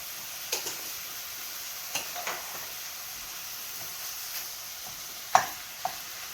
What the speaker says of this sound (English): Now I'm going to let this cook a little bit